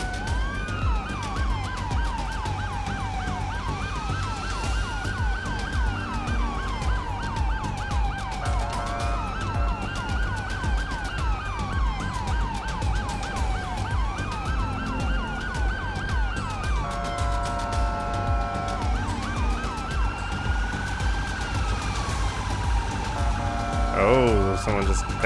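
Police car sirens in GTA 5 wail in repeated rising and falling sweeps near a stadium amid road traffic, loud and steady throughout, with a sharp burst near the end.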